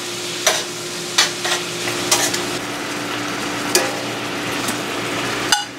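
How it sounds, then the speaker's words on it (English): Venison sizzles steadily in a hot pan with seasonings, a constant loud frying hiss broken by several sharp scrapes and clicks of a utensil stirring the meat. "we will complete the cooking, stir it up real well with the seasonings. Let it start cooking real good here."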